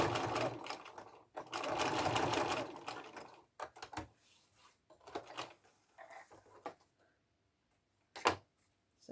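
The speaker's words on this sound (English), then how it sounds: "then I just sew to stop it coming out again" Sewing machine stitching across elastic pushed into the tube edge of a fabric face mask, with a loud continuous run of needle chatter for about two seconds, then shorter bursts and clicks as the machine stops and starts.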